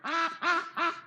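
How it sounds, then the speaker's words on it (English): A big duck quacking three times in quick succession, loud and close, with nasal harmonic calls and brief gaps between them. "He is a big duck."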